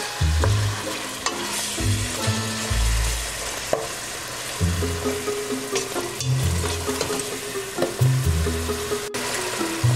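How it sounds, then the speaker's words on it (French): Spices being stirred into onions frying in a pan for riz gras with vegetables, a steady close sizzle broken by repeated scraping strokes of a spoon through the pan. "Je vais ajouter mes épices maintenant bien mélanger"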